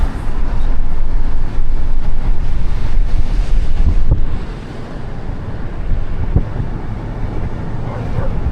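Wind and surf at Moonstone Beach, Cambria, a loud, steady low rumble of gusts that eases partway through, leaving a softer wash of waves and breeze.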